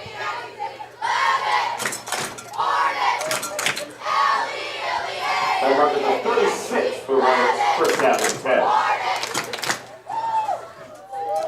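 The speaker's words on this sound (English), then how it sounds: "Crowd's still into it here at Leavitt Field." A high school football crowd at Leavitt Field on senior night yells and cheers in bursts, with shouting voices and sharp bangs overlapping close by amid a lively, uneven roar.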